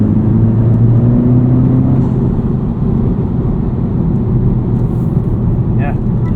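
A Honda Civic Type R FL5 running a COBB Accessport 93-octane tune is driven along a road, its engine a steady, loud low drone and rumble heard from inside the cabin.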